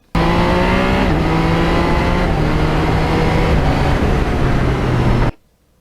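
A 2020 Yamaha MT-09 motorcycle rides steadily under a continuous loud engine drone with wind noise, pitch stepping through gear changes before cutting off abruptly near the end.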